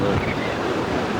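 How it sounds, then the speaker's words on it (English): Gusty wind buffets the microphone outdoors, a dense, roaring rush that stays loud and steady throughout the short moment. "Oh, it's windy."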